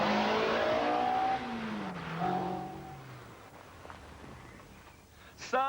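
A Honda S2000 sports car engine revs hard while being driven, pitch climbing and dropping through several gear changes before easing off into quieter running.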